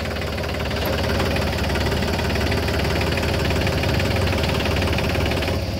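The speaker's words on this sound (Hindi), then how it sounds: "क्या शानदार आवाज़ इस ट्रैक्टर की" A Mahindra 365 4x4 small tractor with oil brakes runs steadily at idle close by, its mid-low engine note loud and constant with a slight knocking rhythm and no talk over it.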